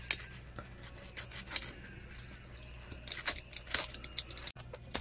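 Craft knife scraping and cutting a round hole into clay, soft intermittent rasping and scratching strokes, quiet and close, with no talking.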